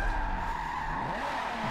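Tires on a Street Style Reborn pro drift competition car squeal and skid under a continuous roaring engine, a sustained close screech with the pitch sliding as the car swings around.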